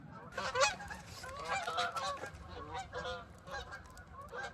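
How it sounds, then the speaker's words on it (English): A flock of geese honks repeatedly in overlapping calls, faint and at a distance, with no voices. "I love the sound of the geese"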